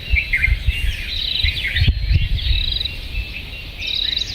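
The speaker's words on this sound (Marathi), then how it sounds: "वातावरण सगळं शांत असल्यामुळे पक्ष्यांची चिवचिवाट ऐकू आलती" Many small birds chirp and twitter steadily through a calm morning, a dense high chorus with insect-like trills, fairly close, no voices.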